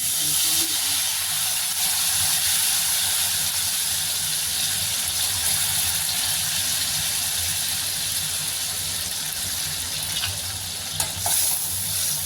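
A lemon mixture for lemon rice bubbles and sizzles steadily in a pan, a loud continuous hiss with occasional stirring scrapes near the end and no talking.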